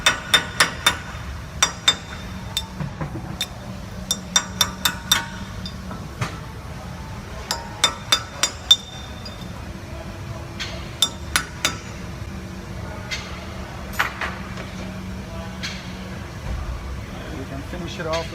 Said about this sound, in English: I usually use a little chisel like this or a flat blade screwdriver and just tap it in from the side